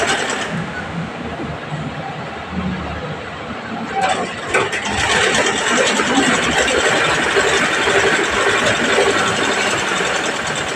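A sewing machine runs steadily through fabric for nearly the whole stretch, a continuous mechanical whirr that grows a little louder and busier after the first few seconds, with no talk over it.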